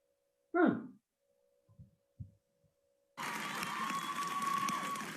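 Show audience bursting into clapping and cheering, a broad wash of applause that starts abruptly after a few scattered short sounds and holds steady to the end.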